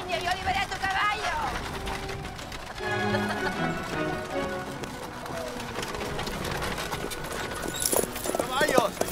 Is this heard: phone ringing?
no